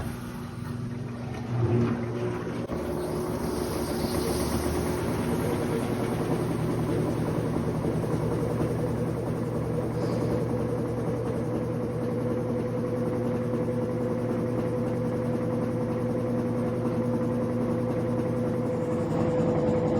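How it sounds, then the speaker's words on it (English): Washing machine running its spin cycle with a wet knitted sweater inside, a steady loud whirring drone with a constant motor tone and rumbling throughout. "It's still spinning."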